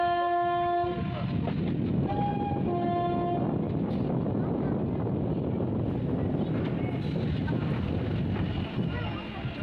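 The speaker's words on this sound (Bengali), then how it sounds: "এটা 22861 আপ হাওড়া তিতলাগড় কাটাগঞ্জি ইস্পাত সুপারফাস্ট এক্সপ্রেস।" Loud, steady rumble of the 22861 Howrah–Titlagarh Ispat Superfast Express going by close up on the South Eastern Railway, with a couple of horn blasts near the start and wind buffeting throughout.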